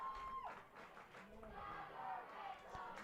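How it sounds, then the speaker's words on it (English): A high school football crowd at a game between Evanston and Mountain View chants a player's name in the stands, a distant, muffled roar of voices heard faintly throughout. "as you can hear, Jagger Mitchell is the chant from the crowd"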